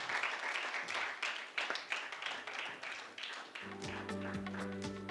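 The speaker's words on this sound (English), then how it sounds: "A louder round of applause is needed," Audience applause at a real estate conclave in Bangalore, a crowd clapping moderately and steadily, fairly faint, with a steady tonal hum entering partway through.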